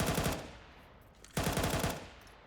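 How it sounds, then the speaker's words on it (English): Automatic rifle fire in a Counter-Strike match on the Inferno map, two loud rapid bursts separated by a short pause, with no talk over them. "he's got a hail of gunfire headed his way"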